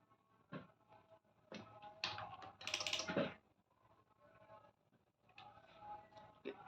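Buttons pressed on an electronic keypad door lock, a series of quiet clicks and taps in small clusters, with a denser burst in the middle, all fairly faint and close.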